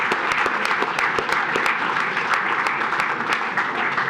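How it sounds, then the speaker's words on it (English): Audience at a Royal Oak city commission meeting applauds for firefighters' families, a dense, steady round of clapping filling the room at close range for several seconds. "I think they deserve a round of applause as well"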